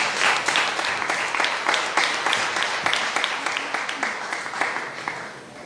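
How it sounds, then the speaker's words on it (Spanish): A church congregation applauds together in a steady, dense wash of clapping with sharper individual claps popping out, loud and close, tapering slightly toward the end. "dale un aplauso al Señor"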